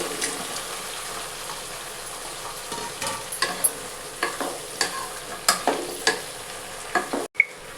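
Bitter gourd pieces frying in hot oil while being stirred, a steady sizzle broken by clattering spatula scrapes that grow sharper toward the end, close and alone with no talk.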